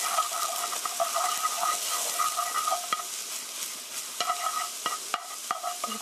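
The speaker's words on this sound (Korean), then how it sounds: "계속 저어주세요." A spoon scrapes and stirs scrambled eggs in a hot pan with steady sizzling, quick repeated strokes, close up, no talking.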